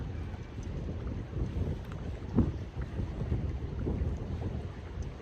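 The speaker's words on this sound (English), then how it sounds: "A bit windy out in the high seas today." Wind gusts across the open sea heard from a boat near Grape Island, a steady low rushing roar with buffeting swells and a brief stronger gust midway, no voices.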